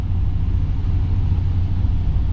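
A 2023 Chevy Silverado HD with the 6.6L gas engine and six-speed automatic climbs a grade, giving a steady, loud low rumble from inside the cab with no change in pitch and no talking.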